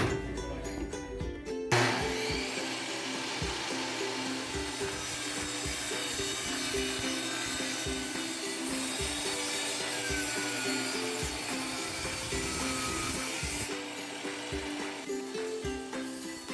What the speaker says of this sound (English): I'll be cutting this plank to the width of 1 3/8 inches, the width of the frame